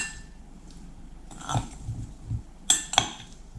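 Salt-and-pepper-seasoned potatoes tossed in a bowl: soft scraping and shuffling, then two sharp, close clinks near the end.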